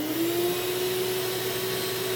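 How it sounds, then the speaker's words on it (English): A shop vac runs steadily to hold clear acrylic flat on a CNC bed, a constant loud motor whine with an even airflow hiss, close and without talk. "I'm going to turn on the shop vac to vacuum it down."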